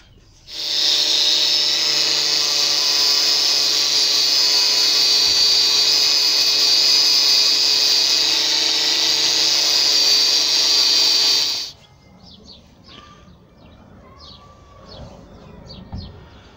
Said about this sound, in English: Bit more dodgy welding there.